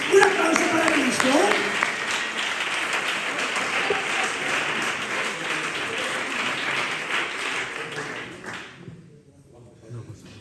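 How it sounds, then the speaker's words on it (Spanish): A church congregation applauds during an evening worship service, a sustained wash of clapping from many hands that fades out near the end, with a voice speaking briefly over it. "Un aplauso para Cristo."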